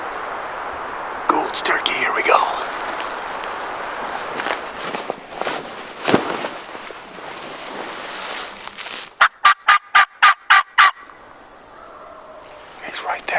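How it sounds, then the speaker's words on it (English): A wild turkey tom gobbles around a hill near a power line, heard among footsteps on a skid road and hushed whispering, with a loud burst of sharp repeated calls near the end. "Got a tom gobbling just around this hill, kind of on a power line."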